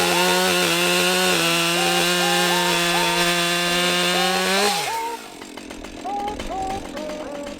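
A vintage chainsaw bucks firewood in a wood yard, its engine holding a loud, steady high whine under load, then dropping in pitch and easing into a rougher, uneven running note near the end.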